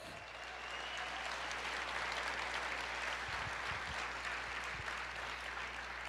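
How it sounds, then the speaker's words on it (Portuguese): A church congregation applauds steadily, a broad, even wash of many hands clapping together at moderate distance, with no voice standing out. "Você pode aplaudir o Senhor"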